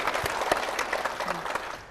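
Audience applause at a church service as a daughter is welcomed forward to share her testimony, a steady dense clapping throughout at moderate distance, with a few louder individual claps standing out.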